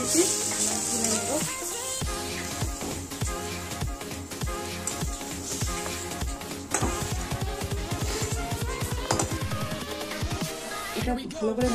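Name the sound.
frying vegetables in a pan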